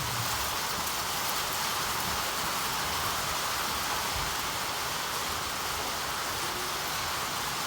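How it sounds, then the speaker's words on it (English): Dense, steady patter of a hail shower drumming on a tin roof, loud and continuous with no voices. "We are currently getting a hail shower, if you can hear it there on the tin."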